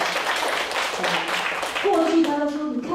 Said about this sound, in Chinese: 我们拍手一下。